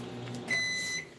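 A microwave oven melting Merckens chocolate candy melts hums steadily while a thin, high electronic tone rings out for about half a second in the middle.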